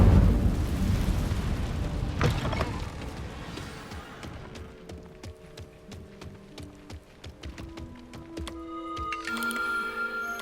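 A fiery Incendio spell bursts out in Hogwarts Legacy as a loud rushing blast at the start, then crackles and fades away over soft, sustained musical tones.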